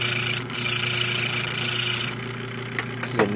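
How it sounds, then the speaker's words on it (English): A homemade drill bit sharpener grinds as a chisel is sharpened on it, a loud steady whirring abrasion with a hum that stops partway through, leaving faint handling noise as the machine winds down. "So we can use this to sharpen chisels."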